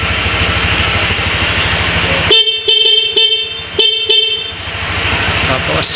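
A Piaa horn on a Honda Click 125i scooter gives several short loud honks in quick bursts after a stretch of steady engine rumble, heard up close.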